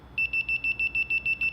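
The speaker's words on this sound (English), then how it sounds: "you'll hear that consistent beep coming from the control board" The control board of an Estate Swing ES 1000 driveway gate opener gives a consistent, evenly spaced electronic beep, about a dozen short high pulses repeating steadily over low background noise.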